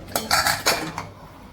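Potatoes go into a pot of mutton curry with a few sharp metallic clinks and scrapes of a utensil against the pot, three or four close knocks in quick succession, then quieter, with no talk.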